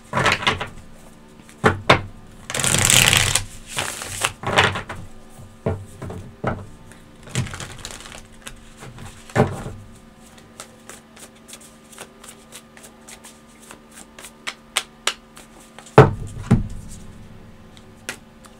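Tarot cards riffled and shuffled by hand in a quiet room, a long dense burst of flapping card noise followed by scattered taps, slides and a final sharp riffle.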